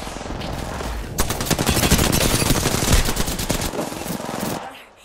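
Rapid automatic gunfire from a ranked online shooter match, a dense, loud burst of overlapping shots rattling for about three seconds before cutting off.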